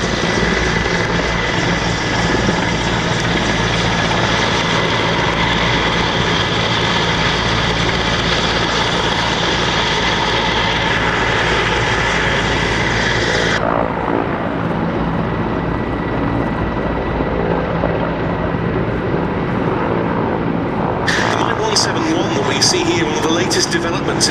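A Mi-8 Hip military helicopter flies at an airshow, its dense rotor and turbine roar steady and loud, with a commentator talking over it and the high whine dropping away partway before returning.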